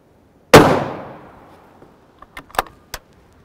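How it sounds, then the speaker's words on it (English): A 7.62x51mm NATO rifle shot fired into a block, one sharp loud crack with a decaying tail, followed by a few light metallic clicks and clatters. "I'm shooting all over this block and I'm not shooting directly underneath the chronograph."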